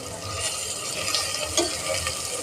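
Chicken kulambu masala sautés in oil in a pan, giving a soft continuous sizzle with scraping stir strokes and small crackles, close and moderately loud.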